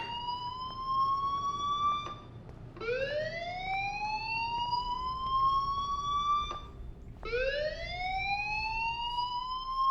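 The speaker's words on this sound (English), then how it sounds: "Hey, do you hear that fire alarm?" A fire alarm in the video game Life is Strange wails in repeated rising sweeps, three loud cycles with short gaps between them, sounding alone and close.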